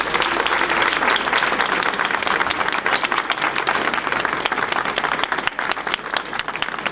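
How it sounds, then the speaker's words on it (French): Sustained, dense applause from a crowd at an outdoor 11 November commemoration ceremony, honouring newly elected young municipal councillors; steady, fairly loud clapping throughout with no pause. "Merci de les applaudir."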